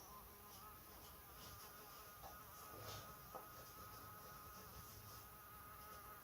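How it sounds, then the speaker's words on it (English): A faint, steady insect buzz drones continuously in a quiet room, with small fluctuations as it moves about. "there's a wasp in here now"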